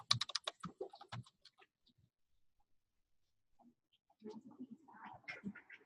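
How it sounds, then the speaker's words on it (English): Clicks from a computer keyboard in a classroom, a quick cluster of sharp close taps, then a quiet gap and another scattered run of keystrokes, fairly faint. "It's not tabbing right, so I'm just trying to press the space bar."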